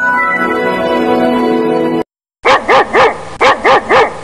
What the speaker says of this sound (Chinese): 怎么有狗叫声？